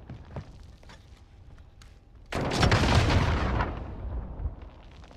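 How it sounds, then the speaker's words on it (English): Gunfire in Call of Duty: Modern Warfare: faint shots and footsteps, then a sudden loud burst of close weapon fire and blast noise that rolls on for a couple of seconds before fading. "Someone's shooting at me."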